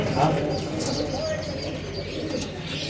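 Striped cross pigeons coo at a shop in a Karachi bird market, soft repeated low coos close by amid the chatter and other bird chirps of the market, with someone talking over them.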